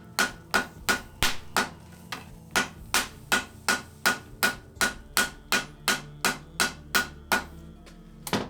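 A hot steel billet being hammered for a forge weld, a long run of evenly spaced, ringing metallic blows about two per second, close and loud with no talking.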